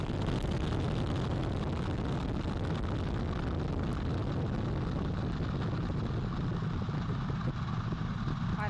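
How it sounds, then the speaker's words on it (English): Artemis I lifts off as its core stage engines and two solid rocket boosters roar in a dense, unbroken, crackling rumble that stays steady and powerful throughout, heard at a distance with no voices. "Core stage engine start. 3, 2, 1. Boosters in ignition. And liftoff of Artemis I."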